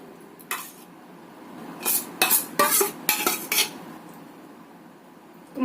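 A utensil scrapes and clinks against a plate while spreading seasoning paste over raw ginger chicken before steaming, in a cluster of short, close scraping strokes separated by quiet pauses.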